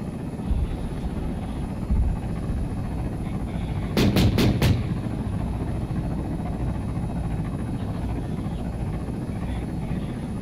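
A helicopter in the ArmA 3 military game gives a steady, droning rotor roar throughout, broken midway by a quick burst of four sharp gunshots.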